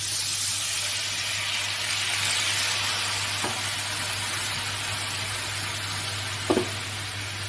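Turmeric and red chilli powder fry in hot oil in a pan, with a steady close sizzle throughout and a couple of faint scrapes as the spices are stirred.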